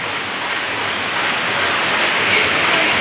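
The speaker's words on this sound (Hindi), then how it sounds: "नदी बह रही है" A clean, sacred river flows past a scenic spot on the pilgrimage route toward Vaishno Devi, its steady broadband rush of water holding even and continuous throughout, with no voices over it.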